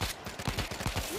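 Rapid bursts of gunfire from the World War Z Aftermath video game, a quick run of sharp shots close up over about a second, fairly quiet in the mix.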